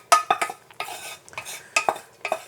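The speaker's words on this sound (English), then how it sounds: "Fold them into the coconut milk paste mixture." A spoon stirring and scraping in a pot as cooked red lentils are folded into a coconut milk paste for a Burmese-style curry, with a series of close, uneven clinks and scrapes.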